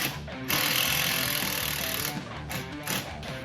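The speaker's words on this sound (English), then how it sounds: "a drill driver typically is just gonna drill and run straight" A Milwaukee M18 cordless drill driver whirs continuously at high speed, with a brief dip and restart near the end.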